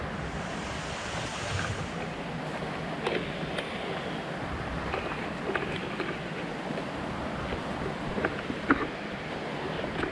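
The Bothiya stream rushes along a mountain trail on the Dehanakanda–Mukkuwaththa route toward Sri Pada, a steady, continuous wash of water noise with faint scattered splashes throughout.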